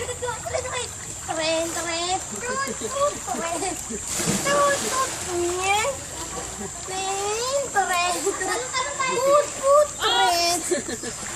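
Pool splashing at a clubhouse as someone swims, repeated watery slaps and splashes mixed with children's excited voices and chatter close by.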